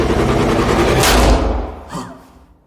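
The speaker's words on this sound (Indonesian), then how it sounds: "Sky pun tertembak tepat di dadanya yang membuat Sky terjatuh" A loud pistol shot in a film, a blast with a thudding low boom amid dense, chaotic film sound, followed by a brief fading whoosh.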